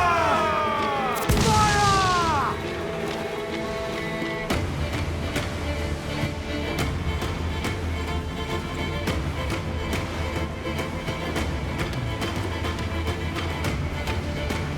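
Ship cannons fire in a naval battle in Assassin's Creed 4 Black Flag: a heavy boom near the start, then dense, continuous battle noise of repeated thuds and crashes that keeps going to the end.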